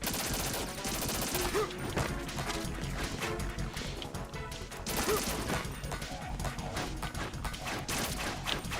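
Metal Gear Solid 2 gunfire, dense continuous volleys of shots with crashing impacts, loud and busy throughout almost nine seconds alongside other game sounds.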